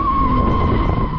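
A Lexus RC 350 drifting in the rain, its tires skidding and squealing in one sustained high tone over loud engine and road noise, close and continuous.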